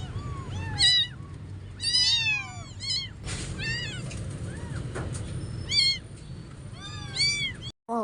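A rescued kitten meows repeatedly in high, plaintive cries, some close and loud and others softer. A low rumble of room noise runs underneath.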